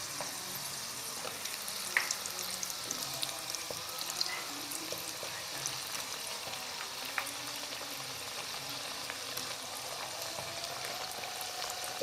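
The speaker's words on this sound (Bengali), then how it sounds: "আস্তে আস্তে নেড়ে নেড়ে রোলগুলো আমি ভেজে নেব" Chicken spring rolls being turned and fried in hot oil, a continuous near bubbling sizzle with faint scattered crackles and a few soft utensil taps.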